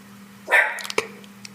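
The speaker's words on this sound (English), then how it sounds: "I made the dog bark." A single dog bark, sharp and fairly close, followed by a short yip in an otherwise quiet room.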